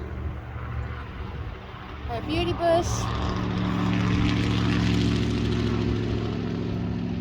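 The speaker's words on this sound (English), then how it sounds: "Sorry, loud truck." A loud truck passes close by outside in an October garden, a broad steady rumble with low engine harmonics that builds and holds, while someone talks over it.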